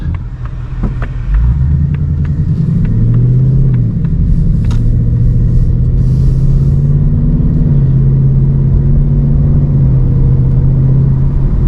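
A 2026 Ford Mustang GT with its 5.0 V8 starts up into a deep, loud rumbling idle that swells as the engine revs, holding a steady throaty drone close by, with no talking.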